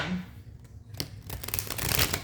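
Cards being shuffled up close: a quick riffling flutter of crisp snaps and slaps that builds toward the end.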